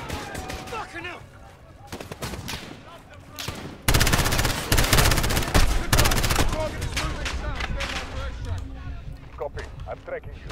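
Gunfire in the video game Call of Duty Modern Warfare: dense bursts of rapid automatic fire and heavy shots, loud and sustained through the middle, with radio-style voices talking over the combat.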